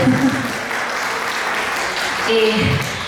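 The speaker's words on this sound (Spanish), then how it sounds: "Ya le iba a pedir un fuerte voto de aplausos para él." Audience applause at a seminar for an administrative management course, a steady wash of clapping that swells slightly near the end, with a voice speaking over it.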